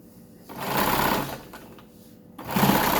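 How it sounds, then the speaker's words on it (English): Sewing machine stitching the edge seams of a fabric face mask, two close runs of rapid steady whirring separated by a short slower pause, no talk. "we're ready to go to the sewing machine and sew our edge seams"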